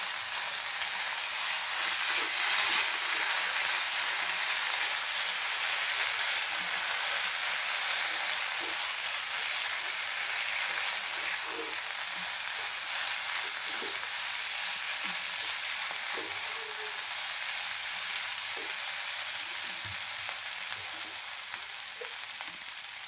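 Mutton stir-frying on a tava gives a continuous, close, bright sizzle with steady hissing, broken by faint scraping and stirring clicks throughout.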